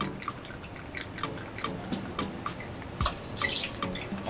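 Beluga Noble vodka being poured for a Russian Spring Punch cocktail, soft irregular drips and trickles of liquid heard close up, quiet and alone.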